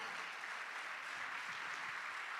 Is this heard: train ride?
no